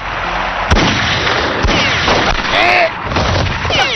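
Gunfire aimed at people outside a gate in a Persian-dubbed drama, with a few sharp shots and booms amid loud, dense, chaotic noise and raised voices.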